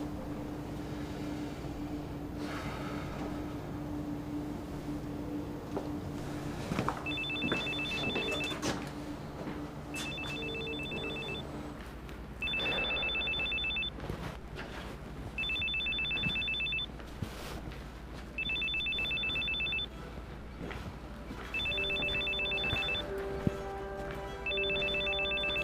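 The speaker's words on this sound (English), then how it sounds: "Wait, let me make a phone call first." A telephone rings in a series of about seven evenly spaced electronic ring bursts, steady and fairly loud over a low background hum, with no talking.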